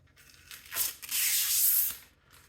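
A strip of tape is peeled off a PC case in two quick pulls, a near, crackling tearing rasp, the second pull longer and louder, with no talking.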